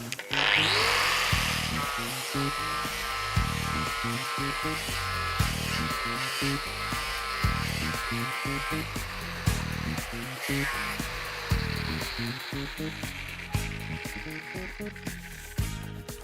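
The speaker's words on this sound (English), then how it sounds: "I'll change the grit size to a 60, but also to soften up the cut of the abrasive, I'm also going to change the backing pad to the medium grade" A power sander fitted with a 60-grit abrasive disc on a medium-grade backing pad runs steadily for the whole stretch, giving a continuous close motor whir and whine with a rhythmic pulsing layer beneath.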